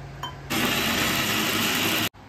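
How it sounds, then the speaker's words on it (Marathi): A mixer grinder whirs loudly and steadily for about one and a half seconds grinding coconut masala with a little water, then cuts off abruptly. "आपण मिक्सरच्या भांड्यामध्ये आता वाटण करत आहोत"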